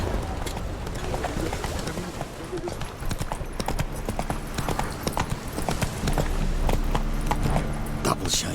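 Hooves of the horse Roach pounding in a rapid clip-clop gallop in The Witcher 3, loud and continuous under a rumbling game soundscape, with a voice speaking over it.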